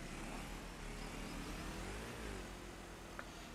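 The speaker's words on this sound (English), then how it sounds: "Almost got smoked by that car." In Farming Simulator 25, a car engine hums past with a steady mid-pitched drone that swells and fades slightly, moderately distant, over a constant background rumble.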